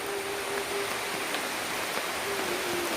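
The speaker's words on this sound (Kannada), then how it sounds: "ನೋಡಿ, ಈಗ ಸ್ವಲ್ಪ ಮಳೆ ಜಾಸ್ತಿ ಆಯಿತು, ಸೌಂಡ್ ಕೇಳ್ತಾ ಇರ್ಬೋದು ನಿಮಗೆ." Heavy rain falls outdoors during a walk, a dense, even hiss of water that stays constant throughout with no voices.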